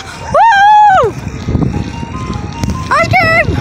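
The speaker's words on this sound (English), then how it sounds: "Ice cream truck right behind us." An ice cream truck plays its melodic jingle from just behind. Two loud tonal phrases sit close by, with street noise and voices filling the gap between them.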